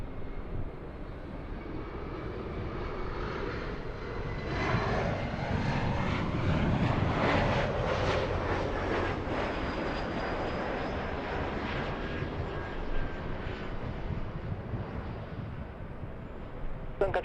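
Airliner passing close overhead while landing on a runway at Los Angeles airport, a broad, steady engine roar that swells and peaks midway, then holds as it slowly recedes, loud and sustained without talk.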